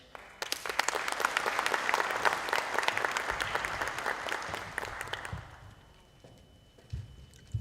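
Audience applause after a speech at a school awards event honoring top matriculants, lively clapping from a crowd that swells quickly, holds for several seconds, then fades away to near quiet.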